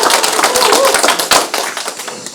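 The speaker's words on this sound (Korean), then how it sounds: "다시 한번 박수 많이 드리겠습니다" Loud audience applause at a Korean regional development talk in Boeun, dense overlapping hand claps sustained throughout without a break.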